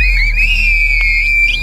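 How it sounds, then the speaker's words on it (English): A person in a Turkish village speaks in whistle language, sending out one piercing, steady high whistle that slides gently in pitch and carries loud and clear for nearly two seconds. "In Turkey, there is a village where people talk through a whistle."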